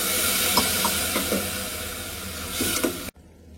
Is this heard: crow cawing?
no